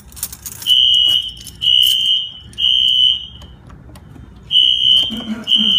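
A piercing electronic fire alarm from a Siemens MXL system with Wheelock audio-visual devices beeps in long, repeated pulses, five in all with a pause before the last two, over faint background noise.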